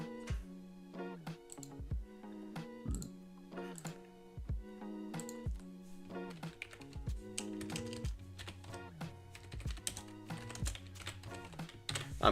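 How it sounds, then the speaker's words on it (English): Computer keyboard keys clicking in quick irregular bursts with short pauses, close and fairly quiet, over a low sustained tonal background. "I'm typing a poll in the chat right now."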